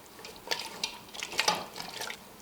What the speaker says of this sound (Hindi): अब इसमें जाएगा 1 गिलास पानी। अब हम इसे चला लेंगे